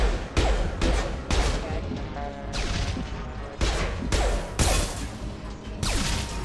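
Rapid bursts of gunfire and sharp impacts in Mass Effect 2 Legendary Edition: repeated loud shots and crashing hits arrive in irregular clusters over busy combat noise, and a voice talks underneath.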